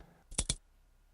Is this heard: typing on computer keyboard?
yes